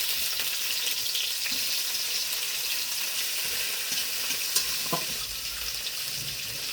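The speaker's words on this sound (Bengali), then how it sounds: "ফোড়নে পাঁচ ফোড়ন দিয়ে দিলাম। কচুরলতি ছেড়ে দিলাম," Panch phoron spices, garlic, taro stolons and potato fry in hot oil in a kadai, producing a steady bright sizzle throughout with a few faint stirring knocks, close and uninterrupted, no speech.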